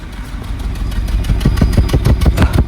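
A Suzuki engine runs with a misfire, throbbing with close, loud, uneven chuffing pulses that quicken and stumble, with no voices.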